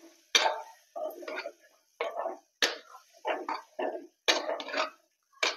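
A spoon or spatula stirs chilli powder into fried barbati beans in a pan, making about ten short, distinct scraping strokes in a steady rhythm, close and clear with nothing else around them.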